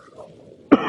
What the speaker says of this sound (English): Apologize if I'm coughing in y'all's face on the screen here.